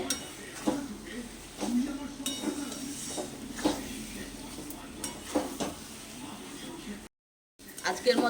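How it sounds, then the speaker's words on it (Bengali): A spoon stirs a fish head and cabbage curry in a pan, with repeated scraping and clinking over a soft sizzle. A voice talks throughout, and there is a short silent gap near the end. "একটু ভালো করে এবার নাড়াচাড়া করে নেব"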